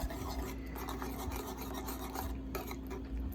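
Spoon stirring diced tomatoes and green chilies from a can of Rotel into a cream sauce for shrimp and sausage pasta, a steady close scraping and rubbing against the pan with faint sizzle underneath.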